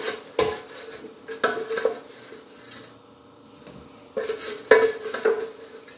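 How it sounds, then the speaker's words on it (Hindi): Potato wedges are tipped into a frying pan and stirred with a utensil, giving clattering knocks and scrapes of metal on the pan in two clusters with a faint sizzle in between. "एक आध मिनट भूनने के बाद ये जितने पोटैटो वेजेस हैं ये इसके अंदर,"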